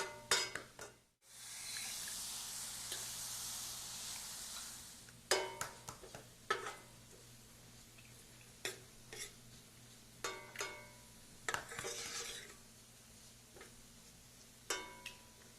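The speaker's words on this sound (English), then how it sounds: "These onions are sauteing pretty quickly." Vidalia onions sauté in a pan for a spinach and cheese quiche, giving a steady, close sizzle punctuated by repeated clinks and scrapes of stirring over a low background hum, with no talk.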